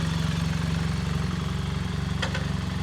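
A BMW R1300GS motorcycle with an Akrapovič exhaust and catted header idles close by with a deep, throaty burble and steady pulsing rhythm, a brief higher click near the end.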